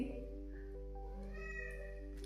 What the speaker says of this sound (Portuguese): Olha o meu gato gritando.